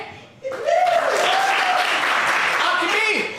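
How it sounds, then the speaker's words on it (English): An improv comedy audience applauds to vote, a quick swell of clapping rising after a brief pause and holding steady, with cheers and whoops mixed in. "Applaud now if you prefer option A."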